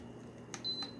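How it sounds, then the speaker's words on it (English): A 16-inch oscillating pedestal fan with remote and timer gives two short electronic beeps on switching on, the second one held briefly, faint against a low room hum. "Nice good beeping sound to let you know it's on."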